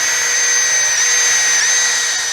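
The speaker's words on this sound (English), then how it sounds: "pre-drill through those locations" A power drill whines steadily at close range, its high pitch holding constant and wavering slightly as it pre-drills holes while installing an exterior door.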